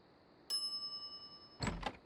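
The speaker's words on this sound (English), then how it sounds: "some idiot's already ringing that stupid bell" A counter service bell in the Monkey Island adventure game gives one bright ding that rings on, followed by a couple of louder thuds or bumps near the end.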